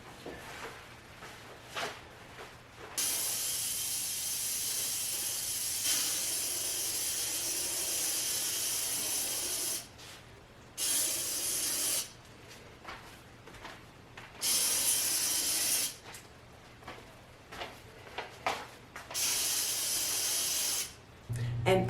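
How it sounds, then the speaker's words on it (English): Lysol disinfectant spray misted over a kitchen table in several separate bursts, each a steady hiss lasting a few seconds with short quiet gaps between, close and fairly loud. "I'll go ahead and spray the table down"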